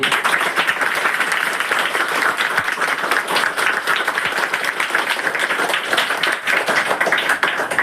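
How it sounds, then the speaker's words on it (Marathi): An audience in a classroom or lecture hall breaks into loud, dense applause. The clapping is sustained and vigorous, with no talk over it. "नक्की एकदा जोरजोरात टाळ्या वाजवा मस्त."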